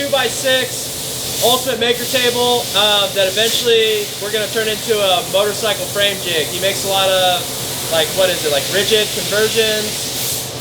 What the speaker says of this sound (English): the laser running in the background